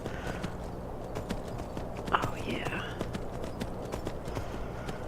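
Repeated hoof clip-clop of a horse in Skyrim, steady footfalls over a dense ambient bed, with soft murmured speech in the background.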